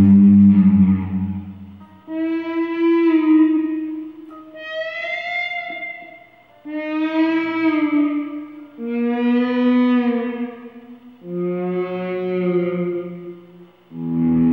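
Electric guitar swelled in with a volume pedal and drenched in reverb to mimic a humpback whale's song, a series of long moaning, sliding tones that rise and fall in separate swells, with no voices.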